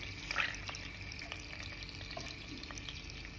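Fenugreek seeds fry in oil in a Chinese clay pot, a quiet, steady sizzle with faint crackles and a brief stir of the spoon, heard alone at a low level.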